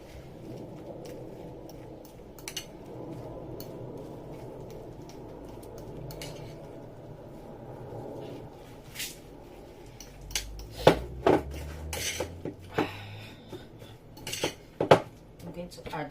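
Egusi soup ingredients being mixed with a fork, heard as soft scraping at first and then sharper clinks and taps against the dish. It sounds close but fairly quiet, with no clear talk.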